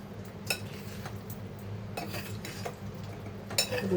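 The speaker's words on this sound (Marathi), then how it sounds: "हे आपण मिक्स करून घेऊया" Prawn keema mixture with cornflour is mixed in a bowl: quiet, close stirring with scattered light clinks and scrapes of a utensil against the bowl, with no talking.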